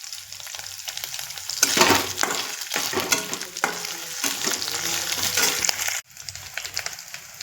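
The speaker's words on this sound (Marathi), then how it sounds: "आता हलवून घेऊया त्याला।" Curry leaves and a crushed chili-ginger-garlic paste sizzle and crackle in a hot pan while being stirred, a steady close frying hiss with scraping strokes that cuts off abruptly near the end.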